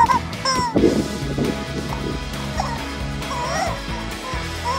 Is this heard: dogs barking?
yes